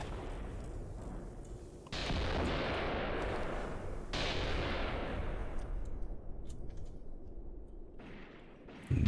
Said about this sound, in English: Ammo cooking off back there.